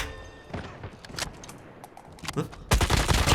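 Krig 6 assault rifle fire in Call of Duty Mobile rings out as short, close bursts of shots with pauses between them, then a louder sustained volley at the end.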